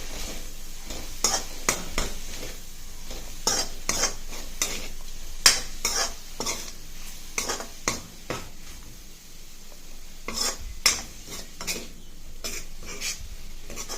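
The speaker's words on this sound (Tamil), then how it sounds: "கொஞ்சமாக கரம் மசாலா இதில் வதக்கிட்டு இந்த சோயாவை ஆட் பண்ணிக்கோங்க" Soya chunks fried with garam masala and chilli powder are stirred in a pan, a spoon scraping and clacking in an irregular series of sharp taps over a soft, steady sizzle, close and fairly quiet.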